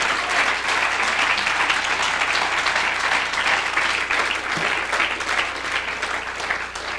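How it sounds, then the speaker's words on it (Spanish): A church congregation claps continuously during a Spanish-language sermon, a thick, even roar of many hands that holds at a steady level from start to finish. "Dale un aplauso al Señor."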